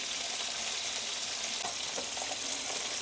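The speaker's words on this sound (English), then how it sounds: "if you're making cubed potatoes like I am, I like to start them off with my olive oil" Cubed potatoes fry in olive oil and butter, giving a loud, constant close sizzle with fine crackling that never lets up.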